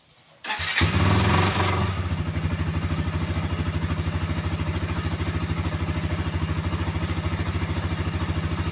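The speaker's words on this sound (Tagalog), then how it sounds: "ayan na po yun, yung andar ng motor" A KTM Duke 200 motorcycle engine with its stock exhaust cranks and fires up, then settles into a steady, loud idle with a rapid, even exhaust putter close by.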